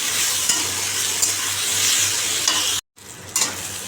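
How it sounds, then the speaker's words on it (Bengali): Snake gourd pieces with turmeric and salt sizzle steadily in a pan and are stirred throughout, with scraping strokes of the spoon and a brief break near the end before the frying resumes. "ভাজছি"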